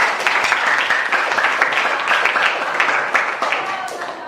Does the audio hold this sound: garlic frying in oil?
no